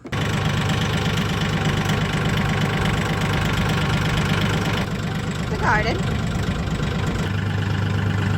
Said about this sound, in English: We're gonna take a little trip